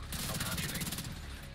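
Rapid rifle fire in The Division 2 during a co-op match: a dense, steady string of close gunshots rattling for about a second before trailing off, with game noise and voices mixed in.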